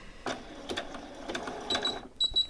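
A sewing machine stitches a t-shirt up close in short, quick bursts of rapid mechanical chatter separated by brief pauses, including a backstitch.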